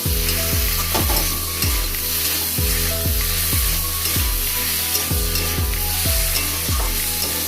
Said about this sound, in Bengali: কেটে রাখা টমেটোগুলো দিয়ে দিলাম।